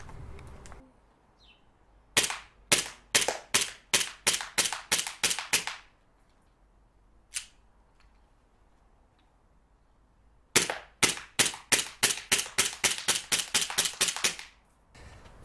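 Two rapid bursts of roughly a dozen sharp CO2 shots each from a 1911-style railgun pistol firing Tippmann BBs, with one lone shot in between, loud and close with quiet gaps.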